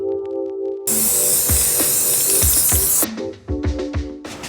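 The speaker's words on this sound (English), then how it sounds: "We sprayed the Rust-Oleum spray paint on patches in the ceiling frame" Rust-Oleum spray paint hisses from an aerosol can onto patches of a bus ceiling frame in one long, loud, steady burst, then cuts off, followed by a few short clicks and knocks.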